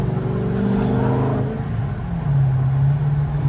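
A Ford GT40 replica engine drones loudly and steadily from inside the car on a race circuit, its low rumble shifting pitch as the car accelerates, with no voices.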